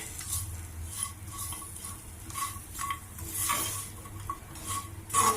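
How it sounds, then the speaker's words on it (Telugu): Ivy gourd pieces coated in gram flour fry in a pan, a soft continuous sizzle under repeated scraping and clinking of a spoon stirring against metal. "శనగపిండి పచ్చివాసన పోయేదాకా కొద్దిగా ఫ్రై చేసుకోవాలి"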